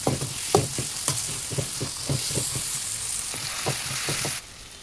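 Cauliflower, beans, peas and onion sizzle in a hot pan while a spoon stirs them, with a string of soft clanking scrapes over a steady frying hiss that drops away abruptly just before the end.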